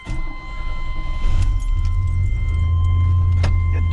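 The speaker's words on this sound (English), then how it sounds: "Get the truck started up and let it breathe for a few seconds" A scrap-hauling truck's engine starts and settles into a loud, steady low idle rumble close by, with keys jangling and small cab clatter over it.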